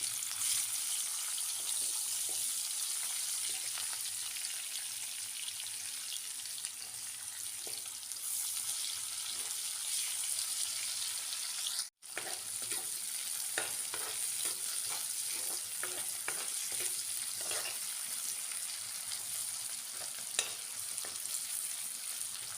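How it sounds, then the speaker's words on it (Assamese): Potatoes frying in oil left over from frying fish, a continuous close sizzle with intermittent stirring scrapes and clicks, no voices. "যিখিনি মাছ ভজা তেল আছে তাতে আলুখিনি মই ফ্ৰাই কৰি লৈছোঁ।"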